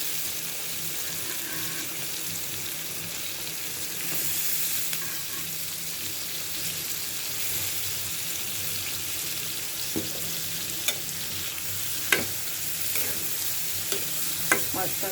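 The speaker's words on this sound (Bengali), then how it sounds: "টমেটোগুলো আমার কষানো হয়ে গেছে, এই পর্যায়ে আমি মাছগুলো দিয়ে দিচ্ছি।" Hilsa fish pieces go into a pan of sautéed tomatoes, frying with a steady low sizzle while a spatula scrapes and stirs, giving a few sharp clinks near the end; no one speaks.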